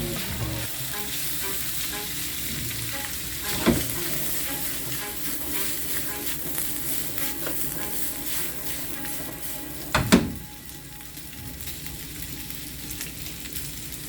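Onion and pepper sizzle steadily in a hot pan while being cooked down for Cuban vaca frita, with occasional clanks and scrapes of a utensil stirring against the pan.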